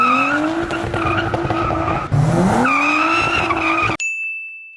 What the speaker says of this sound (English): this is how the car sounds with this giant ass muffler